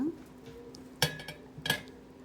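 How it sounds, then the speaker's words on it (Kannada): Leftover cooked rice is spooned into a steel mixer-grinder jar, giving two short, close metallic clinks about a second apart over a quiet kitchen background. "ಒಂದು ಕಪ್ ಅನ್ನ ತೊಗೊಂಡಿನ ನಾನು ಇವಾಗ ಮಿಕ್ಸಿ ಜಾರಿಗೆ ಹಾಕ್ಕೊಳಾಕತ್ತೀನಿ ಅನ್ನ"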